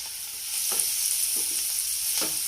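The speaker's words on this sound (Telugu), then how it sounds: "ఉల్లిపాయలు వేగిపోయినాయి చూద్దామండి." Onions frying in a pan for a kurma, with a steady broadband sizzle throughout and a few soft stirring scrapes, close and with no talk.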